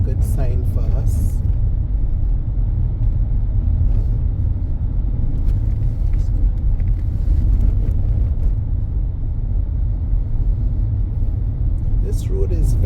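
A car driving along a bumpy road in Christ Church, Barbados, with a continuous heavy low rumble and road roar throughout, small knocks and rattles over the uneven surface, and a voice talking over it.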